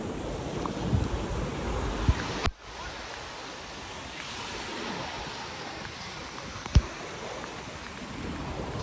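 Waves roll onto a beach in Goa, a steady wide wash of surf mixed with wind noise against the microphone, moderately loud, with a couple of sharp knocks and no speech.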